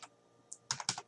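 Close, crisp keystrokes on a computer keyboard while entering router configuration commands, a few isolated taps then a quick cluster of clicks near the end, with no talking.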